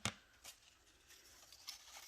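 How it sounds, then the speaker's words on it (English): Scissors snip through crepe paper in a few short, crisp cuts, close and quiet, with soft paper rustling between them. "So go ahead and cut it right here."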